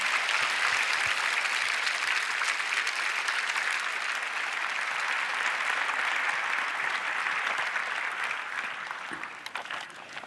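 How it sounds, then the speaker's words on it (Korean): A large church congregation at a Korean prayer service gives a long, vigorous round of applause to welcome the pastor, a full, steady roar of clapping that thins out near the end. "이제 환영의 마음을 담으셔서 심찬 박수로 맞이하시겠습니다."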